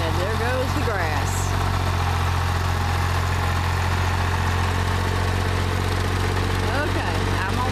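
A Ford 501 sickle bar mower on a tractor: the engine drones steadily at idle-like pitch throughout, a constant low rumble with faint shifting noises from mowing grass over it.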